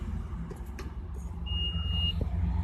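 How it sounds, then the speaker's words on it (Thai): An electric sliding van door closes after a press of the driver's switch: a sustained electronic warning beep sounds over a faint motor hum, ending in a soft thud, all quiet and close. "ประตูทำการปิดครับ"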